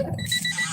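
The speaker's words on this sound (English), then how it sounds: "it's hard to hear her over my beeping car" A car beeps while its battery is charging, giving short repeated high electronic tones in a quick pattern over a low background hum, fairly faint and brief.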